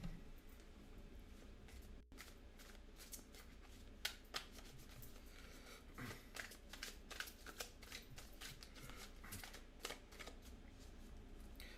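Tarot cards being shuffled during a reading, a steady stream of crisp riffling and slapping sounds lasting several seconds, close and fairly quiet with no talking.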